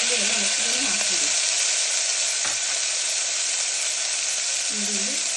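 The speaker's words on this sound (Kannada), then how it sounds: "ಈಗ ಟೊಮೊಟೊ, ಈರುಳ್ಳಿ ಎಲ್ಲ ಒಟ್ಟಿಗೆ ಹಾಕ್ಬಿಡಿ" Onion and tomato fry together in a pan for a vegetable saagu, giving a steady, loud, dense sizzle that runs unbroken throughout, with faint stirring movement underneath.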